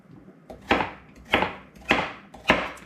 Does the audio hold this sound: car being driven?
no